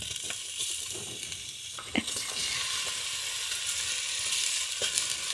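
Half a small onion, cut into half-moons, sautéing in hot oil and giving a steady, close sizzle with a few sharp stirring clicks and crackles.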